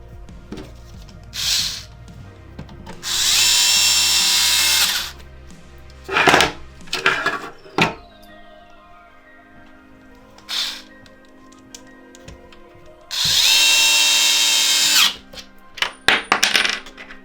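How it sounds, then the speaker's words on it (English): Power drill driving screws into the top cover of an Xbox One X during a fan repair, with two long sustained whirring bursts of the drill separated by scattered clicks and clatter of parts being handled. "you're gonna screw in the back screws here"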